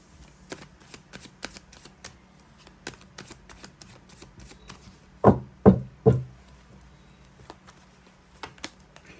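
A single tarot deck is shuffled with soft riffling taps, then three sharp, close card slaps land in quick succession before the light handling continues quietly.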